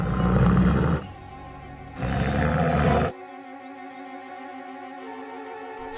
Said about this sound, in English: A huge tiger pounced on Bhim.